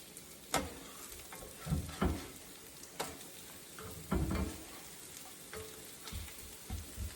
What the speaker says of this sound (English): Gonna toast them just a little bit on the other side.